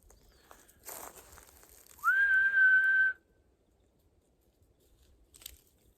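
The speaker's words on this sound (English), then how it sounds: "I thought maybe one whistle would do it." A person gives one sustained, loud whistle to call a dog, a single rising-then-level tone of about a second, with faint outdoor rustling before and after.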